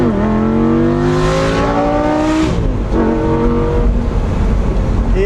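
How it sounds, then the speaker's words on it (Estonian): Lamborghini Gallardo Spyder engine revving loud and close, pitch climbing in a long sweep then dropping and rising again in a second run, steady and continuous throughout with no talk. "See on ikkagi päris oma Lamborghini mootor."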